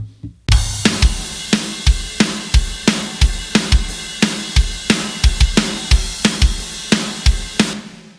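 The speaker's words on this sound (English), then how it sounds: "After all said and done, our drums sound like this." Mixed hardcore drum kit after EQ, transient shaping and compression: punchy kick and snare hits in a driving steady groove with crashing cymbals, loud and dry, playing alone.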